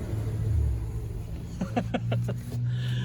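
A steady low rumble from a 1952 Pontiac engine running after sitting forty years, much of it in a field, with a brief burst of voice partway through.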